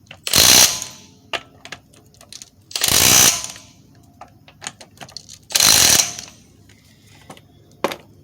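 Wheel nuts being tightened on a Honda with a power tool in a cross pattern: three loud, sustained bursts roughly evenly spaced, each about half a second long, with faint clicks and clanks between them.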